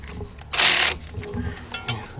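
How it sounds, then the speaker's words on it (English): A short burst of ratcheting from a 3/8-inch drive ratchet with a 14mm deep socket tightening a bolt on a 2006 Kia Sportage 2.7 engine, about half a second of rapid clicks followed by faint handling noises. "got my 14mm deep, 3/8 drive socket. Let's tighten up this bolt right here"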